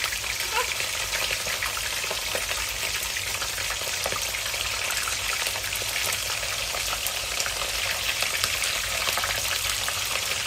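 Pork and mackerel fry in oil in a home kitchen, a dense, steady crackling sizzle running unbroken and fairly loud throughout.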